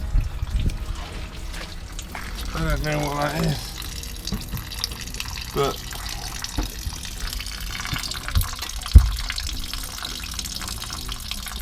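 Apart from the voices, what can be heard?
water leaking and dripping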